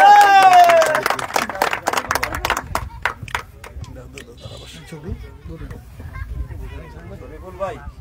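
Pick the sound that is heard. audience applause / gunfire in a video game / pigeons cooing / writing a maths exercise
audience applause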